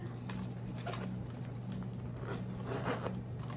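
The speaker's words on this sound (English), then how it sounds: "Nice zipper." A series of quick, raspy zipping strokes over a steady low hum, close and moderately quiet, as the zipper on a Prada Re-Edition 2005 nylon mini bag is drawn open.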